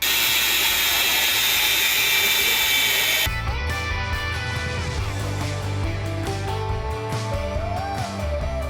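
An angle grinder whines loudly and continuously against a steel suspension part on an old, long-abandoned BMW, a harsh high shriek that drops into a lower grinding drone with shifting pitch as the disc bites, close and without talk.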